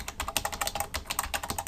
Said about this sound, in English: save it with Control S